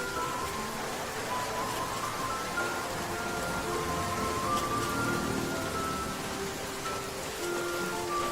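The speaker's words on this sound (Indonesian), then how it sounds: "Hujan." Steady rain falls in a constant dense hiss that stays even throughout, with no talking over it.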